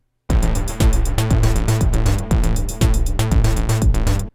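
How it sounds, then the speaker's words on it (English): A harsh, buzzy Korg Volca Modular synthesizer plays a driving rhythmic pattern of repeated gritty square-wave PWM noise notes, loud and close, with short gaps between phrases. "if you want to create some more aggressive tones on the Volca Modular, like this"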